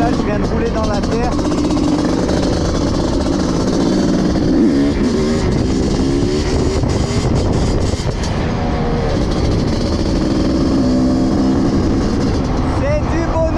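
A 500 CR motorcycle set up as a supermotard, heard while riding: a loud, continuous engine drone that stays steady throughout, with wind and road noise mixed in and a voice occasionally over it.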